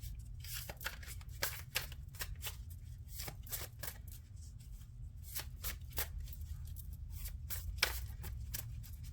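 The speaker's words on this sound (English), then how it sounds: "I'm having trouble shuffling these cards" Tarot cards are shuffled in repeated quick riffles and taps close to the microphone, giving a crisp, papery rhythm over a low background hum.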